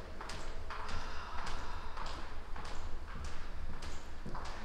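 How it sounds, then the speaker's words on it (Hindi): Footsteps tap and echo through an empty college building at Amity University Noida, a steady series of sharp, reverberant hard-floor steps in a quiet corridor with no talk. "सिर्फ पैरों की आवाज आ रही है।"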